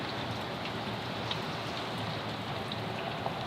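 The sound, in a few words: rain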